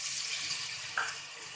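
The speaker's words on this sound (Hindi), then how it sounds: "थोड़ा सा इसमें हम पानी डाल देंगे।" Water pours into masala frying in a pan, giving a faint, hissy wash of liquid sound with a brief brighter splash partway through.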